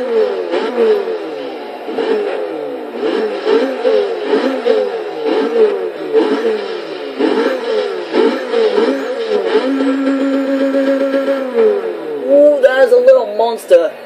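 A 1980 Fiat Sport Spider's engine in the racing game Forza Motorsport 6 revs up and down repeatedly in rising and falling bursts, with a steadier drone near the end and a voice talking over it.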